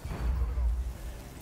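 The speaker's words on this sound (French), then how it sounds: "J'envoie une grenade." A grenade goes off in a French-played tactical shooter, a low rumbling boom that swells and fades over a second or so, with voices murmuring faintly underneath.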